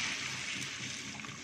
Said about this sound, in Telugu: ఇప్పుడు దీంట్లో వాటర్ యాడ్ చేద్దాం